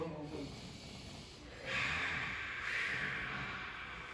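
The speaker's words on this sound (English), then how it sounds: "Just take a few moments to breathe." Slow, deep breaths are drawn in and let out during a guided chakra relaxation, a soft airy hiss rising twice at close range in an otherwise quiet room.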